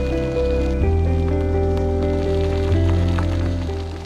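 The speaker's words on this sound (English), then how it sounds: "Some rapids there now." Rapids on the Youghiogheny River churn with a continuous rushing wash of water, steady and fairly loud throughout.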